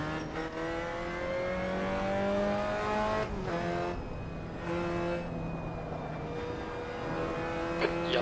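Race car on cold tyres working heat into them, its engine a loud, steady high-pitched whine with shifting revs and gear changes, close and continuous.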